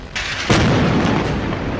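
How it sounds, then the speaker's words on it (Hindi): A bunker buster bomb goes off in one sudden, loud, heavy blast that swells into a sustained rumbling roar, with no voices. "इनसे ऐसा धमाका होता है जिसकी वजह से इन्हें बंकर बस्टर बम कहा जाता है।"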